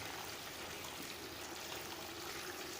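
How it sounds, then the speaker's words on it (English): Water rushes steadily into a hydroponic nursery tray where root plugs are soaking, a constant soft wash of flow with no breaks and no voices. "You are wondering why the water is still rushing"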